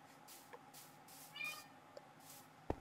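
A pet cat meows once, short and fairly clear, over a low steady background hum with a few soft clicks and a sharp knock close to the end.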